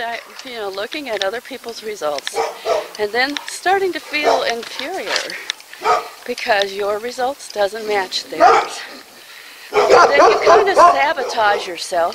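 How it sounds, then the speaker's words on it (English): Dogs bark and yip in the background beneath a steady stream of close speech, with the talking dominating throughout. "Sorry about the dogs."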